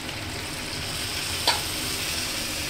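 Spices for Bengali sukto being stirred in a pan, heard as a steady, even sizzle of frying throughout with one brief scrape of a spoon near the middle.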